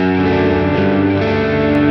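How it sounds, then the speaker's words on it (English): A Boss Katana guitar amp on its modulate setting, a shimmer-style reverb, rings out with a sustained, shimmering guitar chord and a thick wash of harmonics, steady and loud throughout with no talking. "if we go to modulate, the modulate is a bit like a shimmer reverb"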